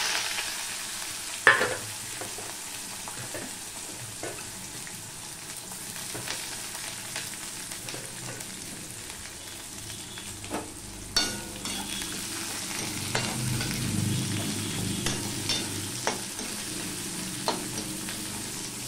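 Two chopped medium onions frying in a pan for yogurt chicken, a soft steady sizzle with scattered clinks and stirring scrapes, a fuller hiss late on, no voices.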